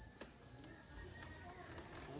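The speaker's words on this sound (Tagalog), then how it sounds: "maririnig nyo lang huni nung kuliglig ba yun?" Crickets chirp at a quiet campsite, giving a constant high, thin trill that stays steady and fairly faint throughout with no talk over it.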